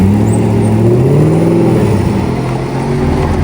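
A drift car pulls away at a drift competition final in Vinnytsia, its engine revving and climbing in pitch, loud and close, with no talk over it.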